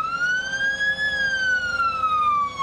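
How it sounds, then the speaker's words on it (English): A loud fire and rescue siren wails continuously during a holiday parade, its pitch rising and then slowly falling, with a low engine rumble underneath and no voices. "you know when they're coming, because you hear all those blaring sirens"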